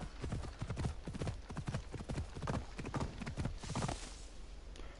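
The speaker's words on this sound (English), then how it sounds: "This horse has wings, I should be able to fly." Horse hooves clip-clop in a steady galloping rhythm in the video game Assassin's Creed Odyssey, close and fairly loud, with faint background game sounds.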